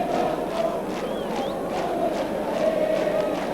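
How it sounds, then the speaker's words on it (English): A vociferous football crowd roars steadily at an Independiente versus Racing match in Argentina, a dense, continuous wall of voices with faint whistles rising above it throughout. "the roar you hear from the crowd is nothing to do with the actual play at the moment"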